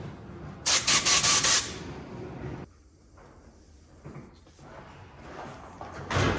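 A can of carburetor cleaner sprays in a few short hissing bursts while cleaning a Honda Ruckus scooter's carburetor, then a lower, quieter stretch of handling noise follows, ending with another brief spray hiss.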